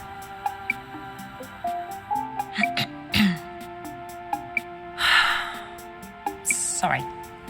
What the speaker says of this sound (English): Just clearing my throat.